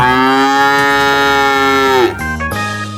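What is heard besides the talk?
cow mooing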